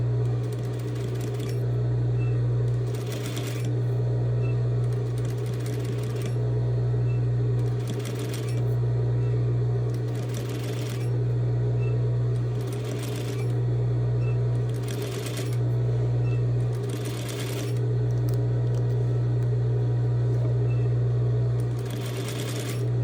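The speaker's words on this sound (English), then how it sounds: "Okay, so I'm stitching and back stitching." A sewing machine stitches a seam on a bias binding sample, its steady motor whir running in repeated bursts with brief pauses between passes, close and clear with no talking.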